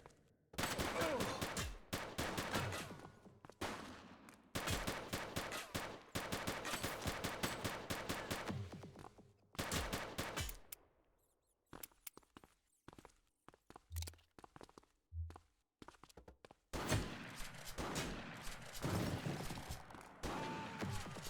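Rapid bursts of gunfire from a police shootout in a dramatized story, dense volleys of shots in repeated stretches with brief gaps, loud and close, broken by sparse single cracks midway.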